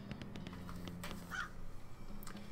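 Russell, a caged bird in West of Loathing, gives a few short, faint calls among sparse soft clicks and taps against a quiet game background.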